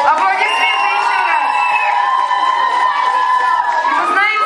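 A children's audience at a camp concert claps and cheers loudly, a dense sustained roar of applause, shouts and whoops from a big crowd, continuous throughout.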